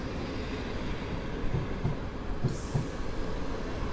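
Old locomotives idle at Warszawa Wschodnia station, including EP07-class electrics, with a steady low rumble of running machinery and a few soft rhythmic thumps. No one speaks.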